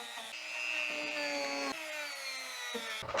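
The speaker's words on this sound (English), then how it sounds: "I get the old rotary tool out with the" A rotary tool fitted with a sandpaper wheel whines at a steady high pitch as it sands the fillets of a wooden dinghy, its tone dipping briefly as it bites into the wood, close and alone.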